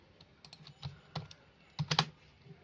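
Someone typing exam marks into an online registration form on a computer keyboard: a few sparse key taps, then a quick cluster of louder clicks near the end, close and quiet with no voices.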